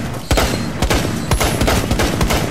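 Rapid automatic gunfire from a bomber enemy in a PS4 video game, loud bursts of shots rattling continuously and close up through the whole stretch.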